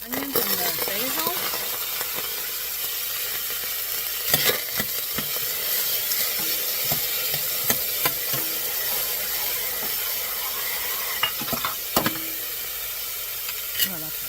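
Onions and basil frying in heated olive oil, a steady close sizzle and hiss with occasional scrapes and clinks of stirring.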